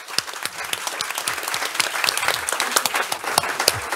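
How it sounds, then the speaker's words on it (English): Conference audience bursts into warm applause for the session's speakers, many hands clapping in a dense, even roar that holds steady for several seconds, close and fairly loud. "Give them a warm applause."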